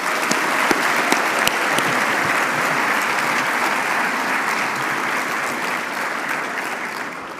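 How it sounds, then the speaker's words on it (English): A large audience at a summer program closing ceremony applauds the sponsors, a loud, full wall of clapping with a few crisp nearby claps early on, gradually easing off toward the end. "Would everyone please join me in a round of applause for these sponsors?"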